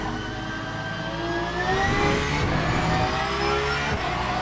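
A Porsche 992 racing at Le Mans in a video game, its engine revving up through the gears with rising whines and a shift mid-run, loud and close, no talking.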